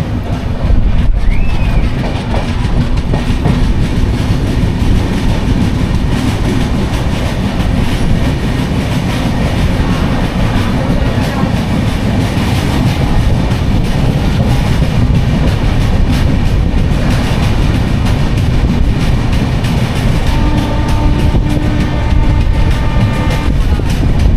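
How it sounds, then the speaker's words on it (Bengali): The Kantabanji Ispat Express runs near Mecheda in East Medinipur, a loud continuous rumble of wheels and carriages with rhythmic clatter heard from on board. "আমাদের ট্রেন এখন প্রবেশ করছে পূর্ব মেদিনীপুরে আর একটা গুরুত্বপূর্ণ স্টেশন মেছেদাতে"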